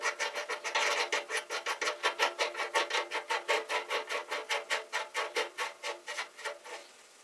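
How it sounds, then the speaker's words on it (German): Locknut being screwed down on the front fork of a 1974 Simson Star moped, a steady run of about thirty evenly spaced raspy clicks from a close threading or ratcheting action, fading slightly at the end with no talk. "Nehmen wir die Kontermutter und schrauben die fest."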